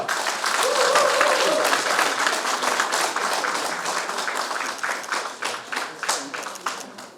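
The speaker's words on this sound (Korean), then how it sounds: "큰 박수 부탁드립니다" Audience applause at a Korean New Year ceremony after a rice cake cutting, steady dense clapping from a crowd that fades gradually, with a few louder claps near the end.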